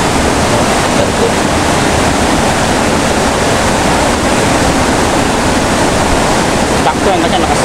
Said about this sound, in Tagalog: Sakto yan kasi lakas ng agos dito